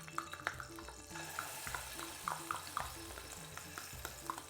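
Ginger and garlic paste frying in a pan for a Madras curry, a steady close sizzle under intermittent scraping stirs of a utensil against the pan, with no one speaking.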